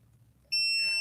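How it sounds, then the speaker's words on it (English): A sudden high-pitched electronic beep from a metal detector starts midway and holds steadily to the end, piercing against near silence. "quit beeping at me, sucker"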